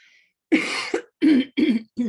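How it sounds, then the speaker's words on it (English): Several harsh coughs in quick succession, close and loud, four bursts with short pauses between them. "I had a coughing fit."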